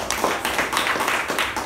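A Toastmasters club meeting audience applauding, a dense patter of many hands clapping steadily in a room, fairly loud and close.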